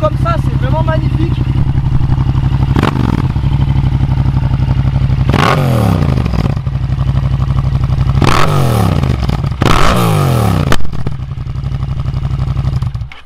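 A Yamaha MT-07 motorcycle with a full Arrow exhaust revs hard several times, each sharp, loud surge dropping back into a rumbling idle with crackling backfires, close by and continuous throughout.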